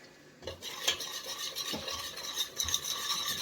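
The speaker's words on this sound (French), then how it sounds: "On mélange bien" Blanquette de veau sauce made with cooking broth is stirred in a pan, giving close scraping and swishing strokes with a few sharper knocks of the utensil against the pan and a light background sizzle, with no voice.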